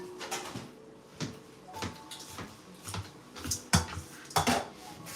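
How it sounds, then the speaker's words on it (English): Metal pans are moved around a home kitchen, making a run of close, loud clanks and scrapes that come in separate bursts, with a few lighter cutlery clinks between them. "We're going to move these pans."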